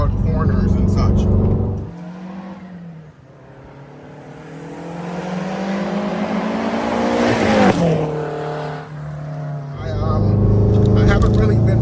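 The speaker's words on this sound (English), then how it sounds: "It's still a WRX with a turbo, and you can hear it go." A bagged Subaru WRX with a turbo engine under way, its engine drone rising and falling as it accelerates and shifts, with someone talking over it throughout.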